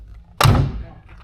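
Car door of a 1970 Chevrolet Malibu closing with a single solid thunk, close and fairly loud, followed by a short fading resonance.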